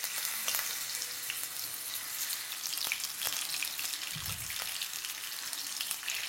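Marinated prawns frying in hot oil for a Bengali prawn bhuna, a steady close crackle and sizzle running throughout with small sharp pops, no talking.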